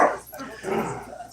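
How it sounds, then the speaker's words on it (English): A dog barks, yips and whimpers during play, close to the mic. The excited, broken calls run continuously throughout. "you don't have to bark every time you play"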